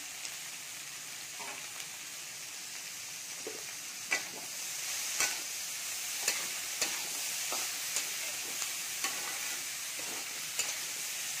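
Mixed vegetables such as French beans, carrots and peas sautéing in a pan over a low flame give a soft, steady sizzle, punctuated by a series of light clicks and scrapes from stirring.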